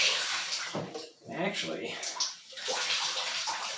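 Water splashes and trickles as a piece of freshly dyed fabric is wrung out by hand in bursts, while a person talks over it.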